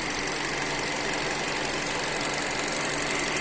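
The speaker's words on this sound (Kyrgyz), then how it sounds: "Алгач мотордун звугуну, үнүнү сиздерге угузганга аракет кылайын" Engine of a taxi car with 81,000 mileage, running steadily at idle under the open hood, a close, even broadband hum with no speech.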